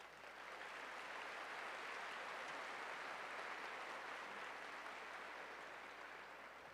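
Steady crowd applause at a university commencement ceremony fills the whole stretch, a dense even patter of many hands clapping without a pause.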